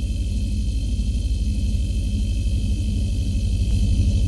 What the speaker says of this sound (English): After the engine is running stable, generator set to on.